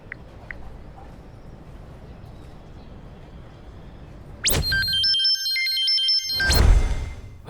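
Mobile phone ringing midway with a bright electronic melodic ringtone, loud and close, starting abruptly after a quiet stretch with low background noise and breaking off at a sudden burst of noise.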